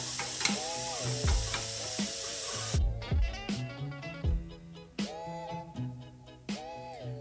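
Shrimp cooking in a pan for a shrimp, chicken and sausage Alfredo pasta, with steady frying and stirring noise and occasional clattering utensil strikes, close and fairly loud throughout.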